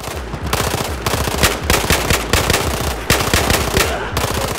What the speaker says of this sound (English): Look how many shots I'm, I'm firing, wasting to try to kill that one guy.